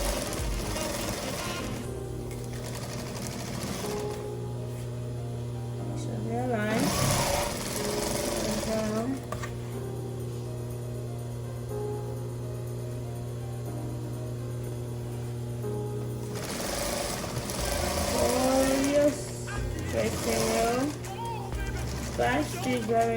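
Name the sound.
sewing machine backstitching fabric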